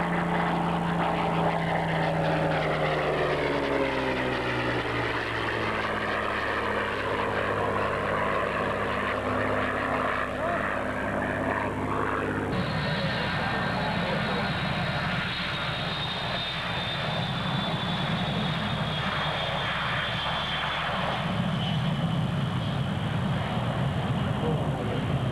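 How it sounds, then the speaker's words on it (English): A P-51 propeller fighter roars past at the 2003 Scott AFB airshow, its engine loud and continuous, dropping sharply in pitch midway as it passes overhead and heads away. "Fighter, the P-51."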